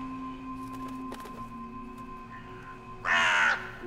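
A crow caws once in the video game Dreamfall: Chapters, a short loud call near the end over a quiet, steady game ambience with a faint hum.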